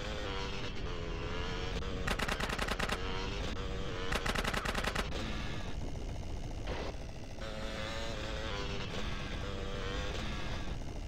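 Gunfire in Grand Theft Auto: San Andreas on Xbox 360, shotgun-armed enemies in a countryside area, with rapid bursts of loud repeated shots over a constant dense game soundscape of engines and action.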